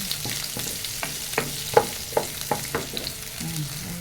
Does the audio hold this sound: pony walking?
no